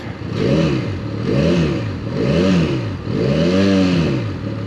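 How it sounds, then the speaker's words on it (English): A Benelli Leoncino 500 motorcycle engine with the standard exhaust revved four times in a steady rhythm, each rev rising and falling in pitch, loud and close with no talking. "Let me give it a little bit of a rev."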